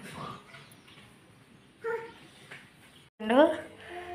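Dogs close by give a few short whimpers and yips in two brief bursts, heard over the low background of a home.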